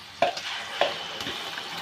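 Tomatoes fry in a pan for tomato chutney while a spoon stirs them, with two clear scraping knocks and a soft sizzle underneath, close and brief.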